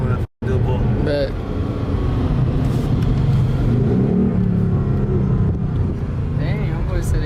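Car engine revving hard through a pull after a U-turn on new drag radials, a loud sustained roar with rising and falling pitch throughout, voices talking over it.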